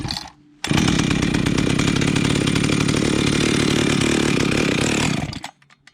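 A cold Husqvarna 61 chainsaw catches after a pull and roars loudly and steadily for about five seconds, then cuts out abruptly, with a faint pull-start rattle before it fires.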